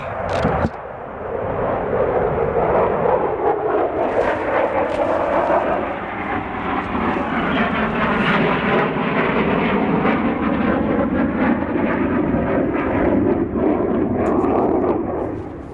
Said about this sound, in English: But they're flying airplanes again.